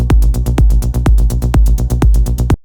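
A rolling synth bass plays a loud, fast, even pulse of punchy bass notes with sharp transients and a steady driving groove, heard alone.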